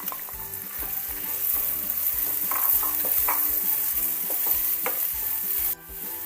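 Chopped onions sizzle and fry loudly in hot oil in a pan for pepper chicken, a dense steady crackle with light stirring scrapes, close and alone, ending abruptly.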